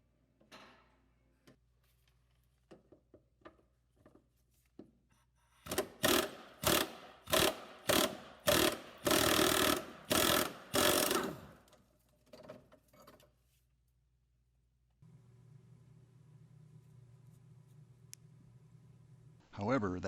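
A socket ratchet works a rusty 13mm fuel tank bolt loose on a 1990 VW Golf Country, a run of about nine sharp, rapid clicking bursts close to the microphone, set between quieter scrapes and a low hum near the end.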